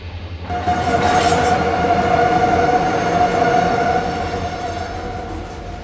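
A long cut of BNSF freight cars shoves back in the Run 8 train simulator, making a steady, loud rumble with a sustained tonal squeal and rolling clatter that holds for several seconds.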